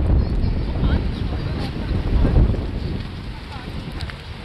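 Strong wind buffets and roars across the microphone in a steady low rumble, gusting louder midway, outdoors at Beomeosa Temple in Busan.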